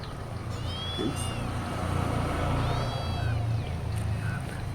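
Kitten meowing outdoors among garden plants and flowers, two or three short high mews over a steady low rumble of engine or wind noise, moderately near.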